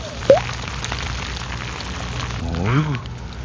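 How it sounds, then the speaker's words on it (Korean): Heavy rain falls in a steady dense hiss, close and loud, with a brief knock near the start and a voice exclaiming faintly toward the end. "여러분들은 좋겠어요 빗소리 듣기 좋아서 비가 많이 오네"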